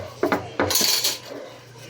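Dishes and plates being washed and rinsed in a kitchen sink, with a few sharp, close clinks and clatters of crockery and cutlery, then a softer rattle, with no talking.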